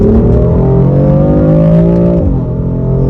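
F82 BMW M4 engine in Sport Plus, pulling hard in first gear with a loud, steady rising rev that climbs for about two seconds, then drops sharply as the throttle lifts.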